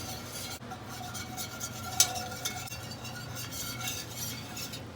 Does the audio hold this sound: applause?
no